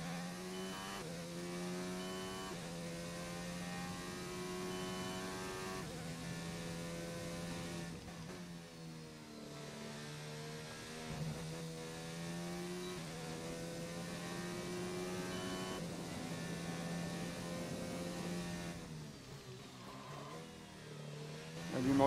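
An F1 race car in the F1 2019 video game, racing in Australia, revs and accelerates through repeated rising engine whines with tyres spinning, a steady moderate drone with gear-change dips throughout.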